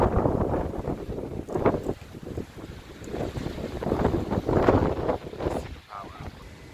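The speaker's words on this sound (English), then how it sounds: "So right now we have about 20-25 miles per hour wind" Strong wind of roughly 20 to 25 mph gusting around a 3K wind turbine in a hybrid power system, a loud, continuous rushing roar with surging gusts that buffet the microphone throughout.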